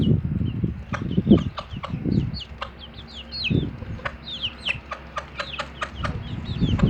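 Chickens and turkeys cluck in low, throaty bursts close by, while sharper chirps and calls repeat in the background.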